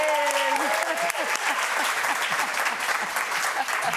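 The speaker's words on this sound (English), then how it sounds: "Please give a big round of applause" Steady audience applause greeting a guest onto the stage at a summit interview, loud and continuous throughout, with a voice briefly audible over the clapping at the start.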